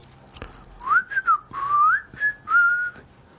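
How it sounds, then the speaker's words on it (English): A man whistles alone and close, a short wavering tune of several gliding notes with brief pauses between phrases. "I don't whistle, but I can whistle better than that."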